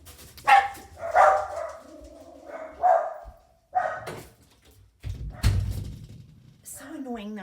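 Dogs bark in sharp, separated bursts, some yips and whines between them, fairly close, with a person talking in between the barks.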